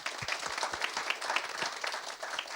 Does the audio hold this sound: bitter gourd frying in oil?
no